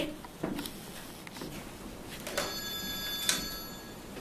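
A telephone rings onstage during a French stage comedy performance, a bright repeating bell tone heard over a noisy room with audience rustle.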